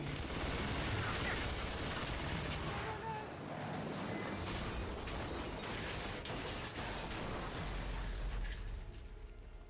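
Sustained video game gunfire, a dense continuous roar of shots and bursts filling the whole stretch, tapering slightly near the end.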